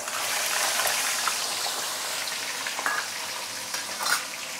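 Pomfret sizzles as it goes into smoking hot oil in a pan, a steady close crackling hiss with scattered small pops, moderately loud and alone.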